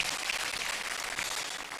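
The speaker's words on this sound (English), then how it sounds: "A round of applause for yourselves." Audience applause at a Supreme Court 150th anniversary celebration: a dense, even wash of clapping from a large hall, fairly faint and continuous for a couple of seconds, with no talking.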